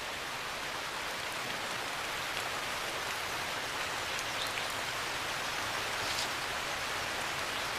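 Steady rain pours down in an Indian forest, a dense, even hiss of drops falling on foliage and the ground, with no voices.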